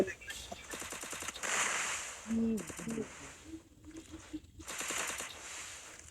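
Rapid bursts of automatic gunfire in the video game Free Fire crackle in several volleys, with a voice talking briefly between them.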